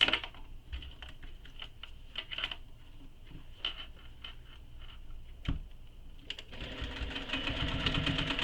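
A sewing machine stitches the sides of a fabric tote bag, with light rapid ticking and tapping bursts at first, then a denser steady mechanical whir building louder toward the end.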